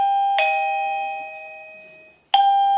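A mydome wireless doorbell chime unit, triggered by a motion sensor, rings a sustained tone that decays over about two seconds, then sounds again sharply; loud, close and clear with no talking.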